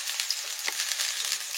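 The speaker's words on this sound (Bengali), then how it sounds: "পরপর ভেজে নিচ্ছি, একটা একটা খেলেই পেট ভর্তি হয়ে যায়।" Kulekhara vegetable chops deep-frying in oil make a steady, close bubbling hiss that holds even throughout the brief moment.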